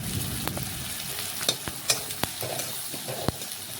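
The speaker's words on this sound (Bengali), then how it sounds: "পেঁয়াজটা একটু দেখুন এইভাবে নাড়াচাড়া করে তেলের সাথে মিশিয়ে একটু লাল লাল ভেজে নেব" Chopped onion stir-fries in hot oil with a bay leaf, a steady close sizzle broken by sharp clicks and scrapes of a spoon against the pan.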